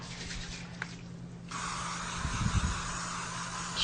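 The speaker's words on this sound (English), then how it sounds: "let's spray our foreman grill" Cooking spray hisses steadily onto a Foreman grill being readied for salmon, a continuous close spray lasting a couple of seconds, with a few faint knocks beneath it.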